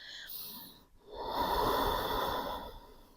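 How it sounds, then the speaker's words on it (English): Deep breathing during a breath-centered vinyasa yoga practice comes as a short airy breath, then a long, steady, full exhale that stays up close. "Nice big breathing."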